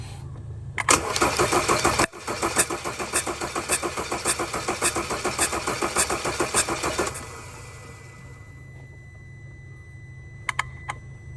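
Audi engine cranking over on the starter with one spark plug removed for a compression test, a loud rapid rhythmic chug lasting several seconds that stops abruptly, followed by quiet with a few faint clicks.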